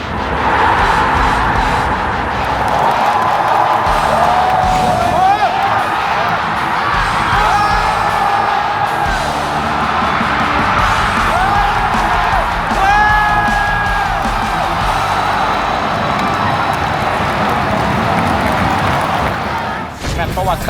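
A stadium crowd at a Thailand national team football match roars continuously, with loud whoops, yells and chanting voices rising over a dense wall of cheering, close and packed, while someone talks over it.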